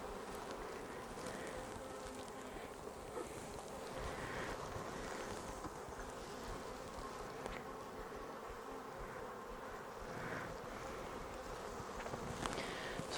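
Bees drone at an open beehive, their soft continuous buzzing steady and low in level, with faint wind and handling noise throughout.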